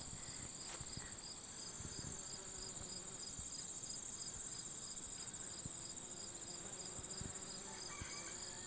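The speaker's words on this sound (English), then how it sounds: "My bees absolutely are going crazy on it." Honey bees buzz around a tall garden plant, their faint, continuous hum blending with a steady high insect trill that runs throughout at low volume.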